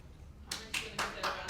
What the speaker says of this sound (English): The students never applaud like that.